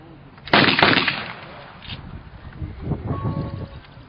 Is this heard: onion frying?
no